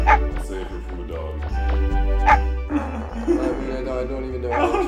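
Dog barks and yips from the video game Mega Man 64 (Mega Man Legends), short repeated barks over game music with a player's voice talking alongside.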